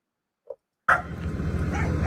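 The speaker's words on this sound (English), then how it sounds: "You hear all these dogs barking?" Dogs at a property with about fifteen of them give one short faint yelp, then a loud burst of barking and yipping that keeps going steadily to the end.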